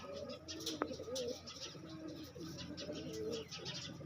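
Pigeons at a pigeon-keeping setup cooing softly and steadily, with a low rolling murmur throughout and one brief sharp call near the start, heard at moderate distance without speech.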